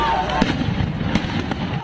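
Fireworks rockets and stun grenades go off during clashes between protesters and police, with several sharp bangs and pops rising over a dense, rumbling crowd din.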